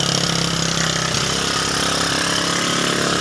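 A motorcycle engine idles steadily after being started following long disuse, with a faulty CDI swapped in, a loud continuous mid-pitched putter with even rhythm close by.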